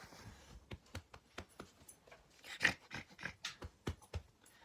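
A big dog pants in quick, rhythmic bursts close by, about a dozen sharp breaths over a few seconds with a faint whimper-like tone in the middle, fairly quiet overall.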